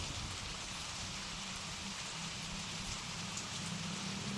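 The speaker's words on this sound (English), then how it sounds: "I wish the rain would dampen when you're inside so you can hear better." Steady rainfall in a first-person shooter game, a constant faint hiss of rain on surfaces with no pauses, heard alone without voices.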